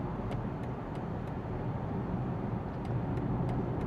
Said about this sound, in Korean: 지금 램프를 돌아서 고속도로에 진입합니다.